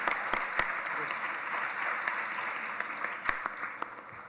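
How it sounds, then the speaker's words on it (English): Audience applause after a violin arangetram performance, a steady even wash of many hands clapping, moderately distant. "Can we have one more round of applause for him"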